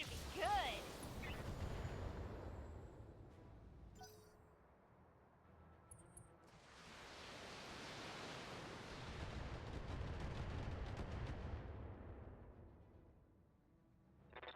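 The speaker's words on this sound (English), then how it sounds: "I'm under heavy fire." Heavy weapons fire in the BattleTech mech combat game: sustained booming, rumbling barrages that swell and fade across the span, with a quieter lull midway before a second long roar, voices speaking over parts of it.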